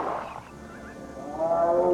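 A tiger gives a deep, rumbling roar, close and loud, heard alone and swelling stronger toward the end.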